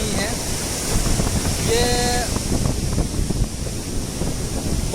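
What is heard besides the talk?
sea waves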